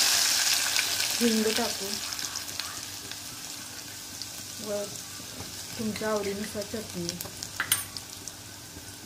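Crushed garlic and ground spices sizzle in hot oil for a Maharashtrian katachi amti, a steady close frying hiss with stirring, while a voice talks over it.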